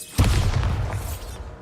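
A Bombarda spell detonates in Hogwarts Legacy: one loud, close blast that booms and then rumbles off over about a second, with no voices.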